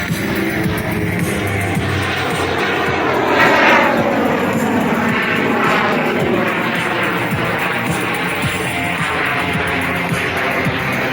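A Yak 110 aerobatic aircraft performing at the Airshows Downunder Shellharbour 2024 display, its engine a continuous loud drone that swells slightly as it passes, with no talk over it.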